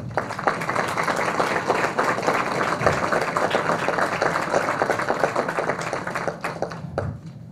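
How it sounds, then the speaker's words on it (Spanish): A roomful of people applauding a senator at a Mexican political event, dense, steady clapping for about seven seconds before it thins out and fades. "Les pido un fuerte aplauso para la senadora Marta Tagle."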